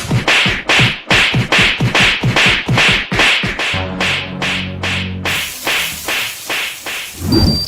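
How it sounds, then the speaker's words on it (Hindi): Cartoon face slaps land in a rapid, loud volley of a dozen or so sharp whip-like thwacks, then a brief buzzing stretch and a final smack. "तुमने मुझे फिर कंटाप मारा"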